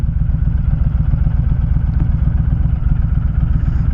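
A Honda Fury motorcycle rumbles steadily while being ridden on a hot day, its low engine throb continuous and close throughout.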